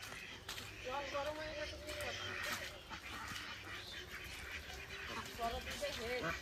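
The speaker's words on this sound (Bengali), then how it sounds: "সব হাঁস গুলো সব উপরে চলে আসছে পুকুর থেকে।" Ducks climbing up out of a village pond give scattered nasal quacks at a moderate distance, mixed in with people talking nearby.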